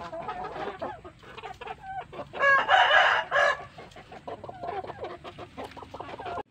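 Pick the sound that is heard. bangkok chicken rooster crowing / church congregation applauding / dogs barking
bangkok chicken rooster crowing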